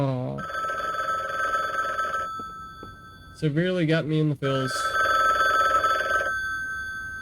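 A telephone bell rings loudly in two long bursts, broken by a short stretch of a person talking between them.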